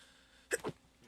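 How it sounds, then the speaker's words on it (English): A single abrupt sneeze bursts out close to the microphone, a sharp explosive blast with a quick second puff. "Sneeze like right into the mic."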